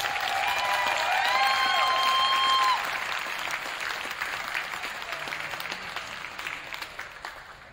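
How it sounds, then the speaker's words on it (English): A crowd at a high school wrestling event claps steadily for the seniors and their families. The applause is loud at first and slowly fades, with a faint voice over it early on. "let's give our seniors and their families one last round of applause."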